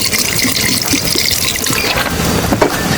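Water is poured into a lemon chicken curry in a pan, a steady loud splashing pour that runs continuously with no talking.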